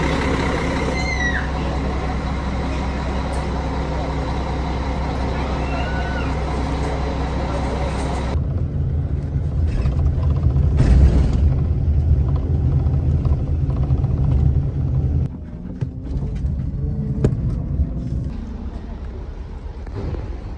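Steady low engine rumble from a long-distance bus between Lima and Cusco, Peru, loud and continuous throughout, swelling briefly midway with a hiss like air brakes as the bus comes to a stop.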